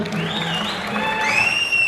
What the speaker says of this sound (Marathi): एकदा जोरदार टाळ्या ललितसाठी झाला पाहिजे